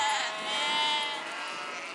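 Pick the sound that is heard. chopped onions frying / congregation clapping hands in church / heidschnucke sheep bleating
heidschnucke sheep bleating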